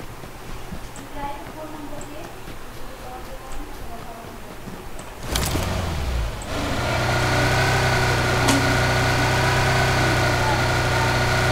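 A car engine starts and then idles and revs in the battle royale game PUBG Lite, a steady mid-pitched drone growing louder after a sharp start-up rattle, with people chatting over it.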